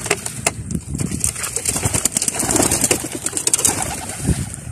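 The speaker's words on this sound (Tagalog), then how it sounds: "re-release ko na ngayon itong mga ibon mga kalapatid" Four racing pigeons released outdoors for a self-toss training flight, with bird calls and wing flutters rising over steady outdoor noise, several soft bursts of activity close by.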